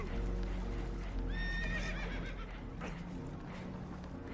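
Spooked horses neighing in the Red Dead video game, several loud whinnies rising mid-clip over steady clip-clop hooves and a low rumbling background aboard a damaged, leaking boat.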